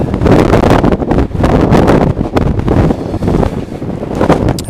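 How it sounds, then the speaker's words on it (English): Strong wind roars outdoors in Reykjavik during light rain near Perlan, buffeting the microphone in a loud, continuous rumble that rises and falls in gusts. "it's pretty windy, a little bit of rain"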